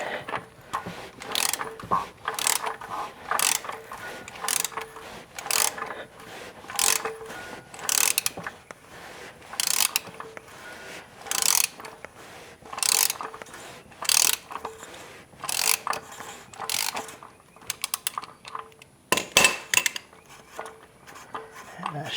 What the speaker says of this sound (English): I couldn't get it with the 3/8 ratchet, so I'm gonna have to swap over to a 1/2 inch.